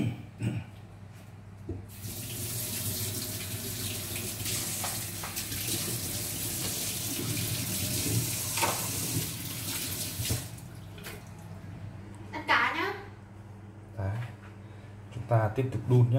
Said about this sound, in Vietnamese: Mình cho nước vào này, cho nước vào đủ ăn rồi nhá.